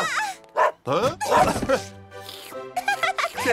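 Cartoon dogs from an animated firefighter rescue series yip and bark in short excited bursts, mixed with squeaky whimpers and lively background music.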